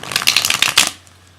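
A deck of tarot cards riffled in a quick, close burst of crisp papery flutters, stopping abruptly with near silence after.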